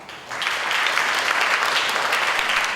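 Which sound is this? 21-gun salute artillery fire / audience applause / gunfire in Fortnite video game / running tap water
audience applause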